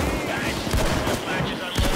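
An auto shotgun fires in the video game Payday 2, a dense continuous barrage of loud gunshots with overlapping blasts and a player's voice talking underneath.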